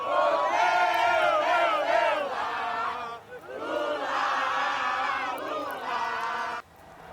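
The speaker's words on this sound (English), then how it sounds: "Ecstatic Lula supporters cheering his remarkable political comeback." A large, dense crowd of Lula supporters in Rio cheers and chants loudly and continuously after his presidential runoff win, with rising shouts and sung calls that briefly dip before swelling again.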